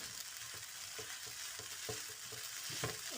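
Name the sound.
mixing chilli garlic egg noodles in a pan with two spoons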